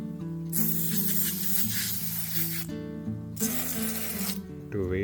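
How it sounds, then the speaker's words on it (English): Helmet cleaner foam hisses from an aerosol can onto a helmet in two long bursts with a short pause between them and a brief squeaky rub at the end, over a steady hum. "This place little more is needed and I'll spray again."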